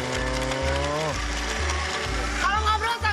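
A kitchen blender running with a loud, steady motor whine whose pitch shifts and drops as it cycles, with people talking over the noise.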